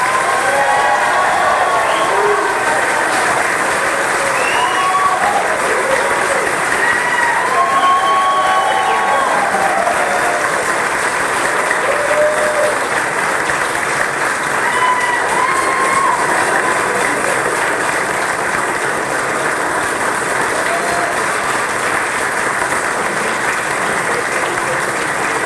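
A meeting-room audience at a county commissioners' reorganization meeting in Linden, Union County, claps loudly and steadily, with scattered cheers and murmuring voices mixed into the sustained applause.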